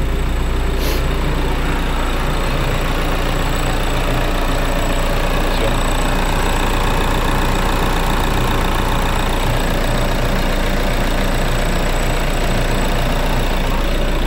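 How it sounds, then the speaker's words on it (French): A car engine idles after starting, with the heater turned to maximum. The car has a coolant leak at the intake manifold, part 04L129766AQ. A steady, loud, low drone with faint ticking runs unchanged throughout, close by, with no talk. "Ici je vais démarrer la voiture, mettre le chauffage au maximum et laisser tourner."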